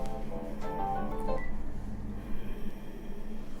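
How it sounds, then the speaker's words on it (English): A home telephone in a yarn studio sounds with a few steady electronic tones and button beeps, moderately loud over a low background hum, with no talking. "The phone's going. Please just ignore the phone."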